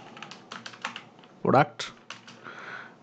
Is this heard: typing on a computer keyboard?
yes